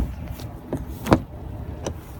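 A truck door handle clicks and the door thumps open or shut with a sharp, close knock, followed by a few faint rustles and clicks as the driver climbs out.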